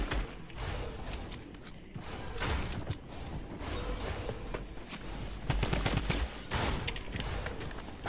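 Gunfire in a Teenage Mutant Ninja Turtles video game: dense, continuous bursts of rapid shots with whooshes, loud and steady throughout with no talk.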